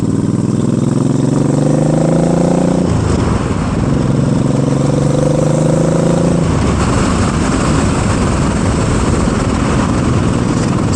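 A 2024 Eliminator motorcycle under way, engine note climbing through gears with a brief dip at each shift, buried under heavy, constant wind roar, ridden gently through curves on a worn, hard old rear tire.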